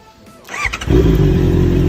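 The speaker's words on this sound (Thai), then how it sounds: "ฟังเสียงเครื่องยนต์" A 2019 Honda CBR650R motorcycle fitted with a titanium aftermarket exhaust catches and settles into a steady, loud idle rumble close by, with a brief rising rev as it starts.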